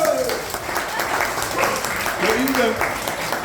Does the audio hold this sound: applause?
yes